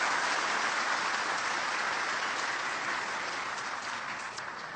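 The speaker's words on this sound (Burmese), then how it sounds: "ဒီလက်ခုပ်သားဟာ" An audience gives a sustained round of applause for a young poet at a literary talk, dense steady clapping that tapers off slightly toward the end, with no voices above it.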